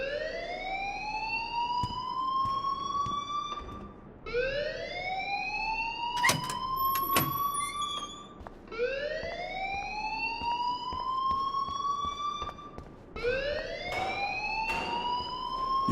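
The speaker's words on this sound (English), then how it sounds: "please turn off that alarm since that's your job" Alarm siren in the game Life is Strange, a rising wail that repeats four times in a steady cycle, moderately loud, with brief clatter in the middle and no talk.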